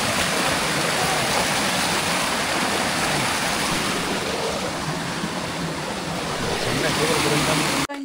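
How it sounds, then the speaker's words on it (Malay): A river stream on a hike to Tawai Waterfall rushes loudly and continuously close by, a dense roar of flowing water that ends abruptly. "Sungai yang pertama."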